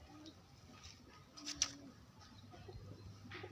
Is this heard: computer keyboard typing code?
no